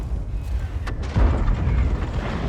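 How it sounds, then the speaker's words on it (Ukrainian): Artillery shells land in a World of Tanks battle on Himmelsdorf, Berlin or the Pass, a sharp crack followed by a deep, rumbling boom that swells and lingers in the low end, close and loud. "тут ще й артилерія летить"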